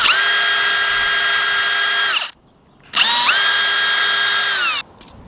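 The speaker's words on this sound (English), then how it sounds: "So I need to drill it out." A power drill whines steadily at close range in two long bursts, drilling out a clogged brake distribution block on a 1980s Yale/Eaton forklift, separated by a brief pause of near silence.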